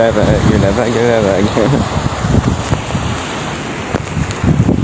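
Ocean waves and strong wind roar continuously at Bénodet, Brittany, under loud, close voices talking and singing.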